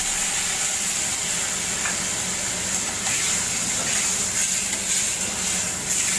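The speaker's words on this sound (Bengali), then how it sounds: "এবার মশলা বাটি দিয়ে জলটা দিয়ে দিলাম।" Water poured into frying spice masala in a pan, giving a steady, loud hiss and sizzle that carries on evenly throughout with no talk.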